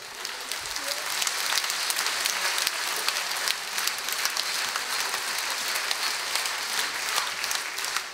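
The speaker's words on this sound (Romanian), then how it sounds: "aplauze!" A concert audience at a tribute show in Hâncești claps continuously, a broad, even roar of applause filling the hall at a steady level without letup.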